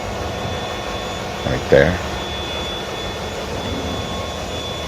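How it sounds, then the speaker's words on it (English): The main engine and turbocharger in a container ship's engine room run as a loud, steady mechanical roar with a constant high whine, while someone speaks briefly nearby. "the exhaust going up and out the stack, and some of it is going and spinning the turbo there"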